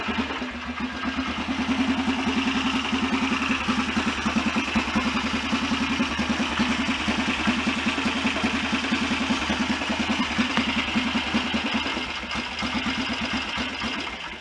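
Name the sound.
BSA DBD34 Gold Star 500 motorcycle engine idling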